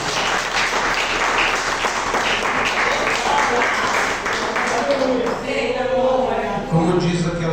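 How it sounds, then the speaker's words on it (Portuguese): A church congregation applauds joyfully for Jesus, a dense, steady wall of clapping that swells and then thins toward the end, with voices mixed into the noise. "Vamos dar uma salva de palmas bem alegre para Jesus"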